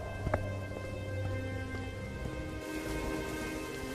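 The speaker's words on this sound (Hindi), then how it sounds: "शाम होते होते बारिश कुछ कम हो जाती है।" Steady rain falls over farm fields at dusk, a soft continuous patter with a few louder drops early on and a low background hum.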